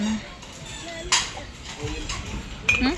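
Glasses and dishes clink softly now and then while shopping for kitchenware, with a few sharper knocks of glass or ceramic. Shop noise and faint voices fill the background.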